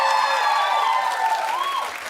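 Sustained applause from an audience, steady clapping throughout with a faint tonal hum running beneath it.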